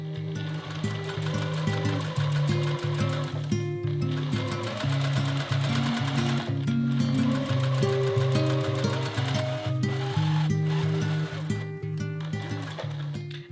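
A sewing machine stitches down a marked line on quilted fabric for a book sleeve. It gives a loud, close, rhythmic whirring and clatter that runs continuously, with short pauses.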